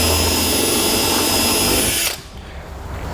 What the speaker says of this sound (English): we'll drill out our pilot hole